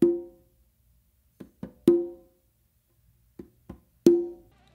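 Conga pattern of open tones with softer palm-finger accents between them: three loud resonant open strikes spaced about two seconds apart, each preceded by a pair of quieter muted taps, played alone and close.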